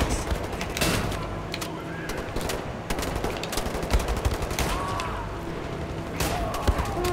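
Assault rifle fire rattles in Wolfenstein: The New Order, with rapid automatic bursts and scattered single shots cracking close and loud over a busy game background.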